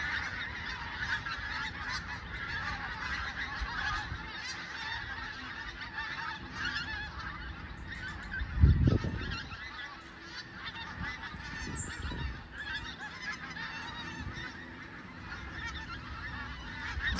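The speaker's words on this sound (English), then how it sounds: "Loads of geese flying across." Flock of geese honking continuously overhead, a steady chorus of calls with one louder burst of honks partway through, no voices.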